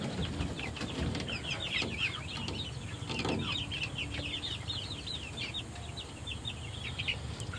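Chickens cluck and chatter in a poultry farm shed holding large birds of about two kilograms, a steady flock noise with layered calls and brief wing or body movements, fairly close and continuous throughout.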